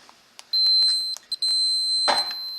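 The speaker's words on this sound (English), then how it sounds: "it will beep." A digital multimeter on continuity test gives a high electronic beep, sounding briefly, then in a sustained tone, cut by short clicks and a scrape as the probes touch, then beeping again.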